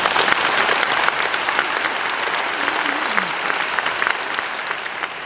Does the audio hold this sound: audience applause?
yes